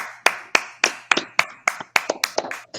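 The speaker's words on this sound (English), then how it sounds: "Let's clap it up." About a dozen sharp, distinct hand claps from a small group on a college football podcast, close and fairly loud, landing in a loose uneven rhythm with no talk over them.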